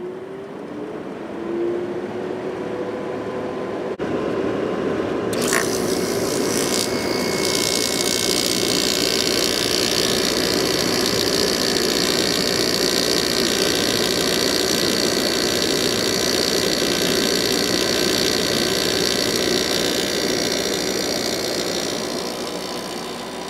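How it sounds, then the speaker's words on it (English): A Kenmore WCI 5,600 BTU window air conditioner that has sat unused for a long time: a softer fan whir gives way to the compressor kicking on, becoming a loud, steady droning hum that runs on alone. "let's see if the compressor starts now."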